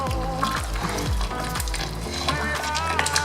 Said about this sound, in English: As I'm turning it, I'm stirring it very fast.